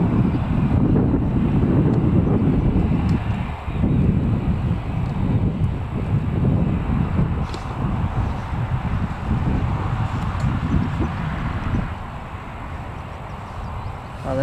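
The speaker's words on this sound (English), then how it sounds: "there's the Emirates one flying overhead. It's the Expo livery as well" An Emirates airliner in Expo livery passes overhead near Newcastle Airport, a loud, steady broadband roar with deep rumble that holds throughout and eases slightly toward the end, mixed with wind buffeting on the microphone.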